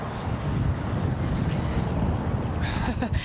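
Gusty wind blowing outdoors in Oakville ahead of a blizzard, a continuous low buffeting rumble across the microphone that stays strong and steady throughout.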